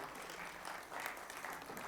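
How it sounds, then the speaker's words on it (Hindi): An audience at a team-building event claps steadily in a dense, continuous round of applause, faint and somewhat distant. "a big round of clap for all the people from Tamil Nadu"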